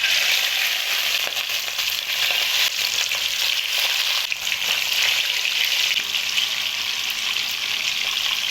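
Fish fries in very hot oil in a kadhai over a high flame, giving a loud, dense, continuous sizzle and crackle up close, with no voices.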